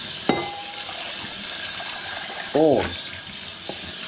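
Bowls being rinsed under a running kitchen tap give a steady hiss of flowing water, with a few brief clinks and a short voiced burst partway through as someone speaks.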